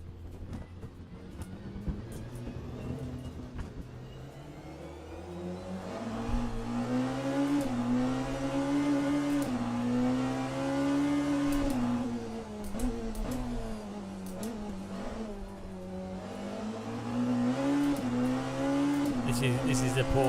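Porsche race car engine in the Le Mans Ultimate racing game, a loud continuous drone rising and falling through gear changes and revs, running steadily throughout with a voice talking over it.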